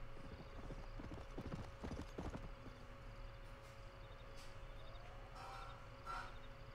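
Steady clip-clop of horse hooves in the video game Red Dead Redemption over a low ambient background, with a faint whinny-like tone near the end.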